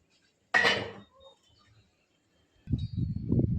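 A metal lid set down onto a pot of chicken dum biryani, one sharp clattering clang that rings briefly and fades, followed later by low knocking and shuffling of cookware nearby.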